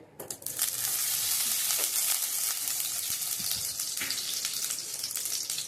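Two spoonfuls of ghee heat in a pan and quickly break into a continuous, close frying sizzle that stays even and bright after a short quiet start, with no talking.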